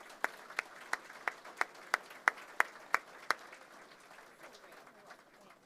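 Audience applause at the 2024 SARM annual convention: a steady, evenly spaced run of fairly faint claps, about three per second, fading into soft room murmur toward the end.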